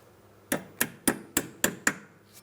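Six light, evenly spaced metallic taps seat a metal brake hose clip on a flex hose, crisp and close, followed by a fainter seventh tap, on a 2008-2016 Chrysler Town & Country.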